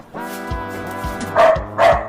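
A dog barks repeatedly in the video game Doom, several yaps rising over a sustained synthetic drone and low rhythmic pulses of game music, loud and close.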